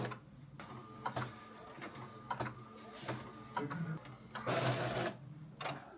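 A home printer feeds and prints on sticker paper, its clicking and whirring mechanism running steadily in bursts of rhythmic mechanical chatter, close and fairly loud with no talking.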